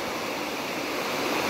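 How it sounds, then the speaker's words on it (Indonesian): The Glodok river, fed by springs on an ancient volcano near Kebumen, rushes steadily as a dense, broadband wash of flowing water, close and continuous with no voices. "Sungai ini namanya Sungai Glodok."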